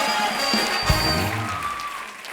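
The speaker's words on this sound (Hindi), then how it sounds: "एक बार जोरदार तालियां विक्की और सारा के लिए" A studio audience at a comedy talk show applauds for Vicky Kaushal and Sara Ali Khan, a dense steady wash of clapping under music that fades slightly toward the end.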